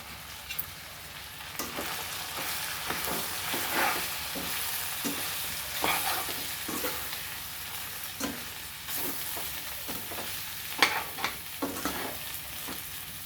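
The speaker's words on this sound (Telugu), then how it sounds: "చికెన్ ఇట్లా నూనెలో కొద్దిగా సేపు గోలినాక మనం కారపొడి వేసినాం కదా" Chicken pieces sizzling in oil in a pan after chili powder has gone in, with a steady frying hiss and repeated scraping stirs of a spoon at an irregular pace.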